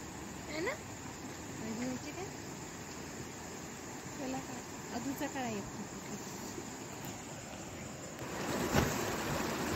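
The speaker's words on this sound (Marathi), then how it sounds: "तर हा जो धबधबा आहे, ह्या धबधब्याचं नाव आहे नेकलेस धबधबा" The Necklace waterfall at Pahine near Nashik, off the Trimbakeshwar road, gives a steady, distant rushing roar of falling water with a voice speaking faintly over it.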